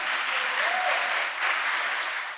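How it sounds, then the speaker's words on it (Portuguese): Church congregation applauding during a Portuguese-language worship service, steady broadband clapping from many hands that swells and dips slightly, with faint voices mixed in. "Mas pode aplaudir Jesus."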